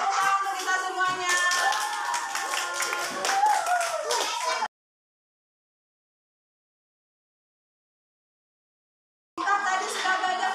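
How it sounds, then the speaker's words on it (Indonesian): A classroom audience of children claps together in a burst of brisk, lively applause with some cheering, cut off by a stretch of total silence before the clapping briefly resumes. "Oke, tepuk tangan untuk kita semuanya."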